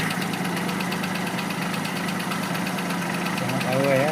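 A car engine idles steadily at close range, a low continuous hum with faint knocking, while a fault behind stalling and slow battery charging is being traced; a brief voice is heard near the end.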